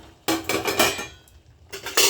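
A metal lid clatters onto a pot of boiling drumstick-stem soup, giving two bursts of close, bright clanking and rattling separated by a short pause.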